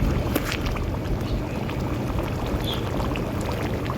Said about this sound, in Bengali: আলুর দমটা বেশ ভালো করে ফুটেও গেছে